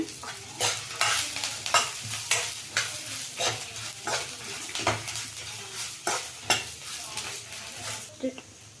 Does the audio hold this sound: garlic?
yes